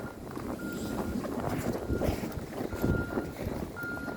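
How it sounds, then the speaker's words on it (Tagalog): Strong wind roars steadily into the microphone with heavy low rumbling buffets, while a faint repeating electronic beep sounds in the background. "Grabe kasi ang hangin dito"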